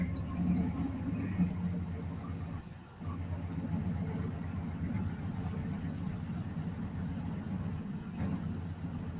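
A car engine idles smoothly and steadily with a low, even rumble, holding at moderate level with a brief dip partway through, with no voices over it.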